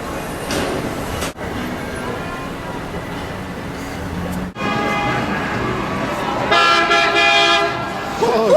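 A loud, sustained train-style air horn sounds close by in a steady blast, briefly interrupted and then resumed, growing brighter and harsher toward the end, with voices mixed in.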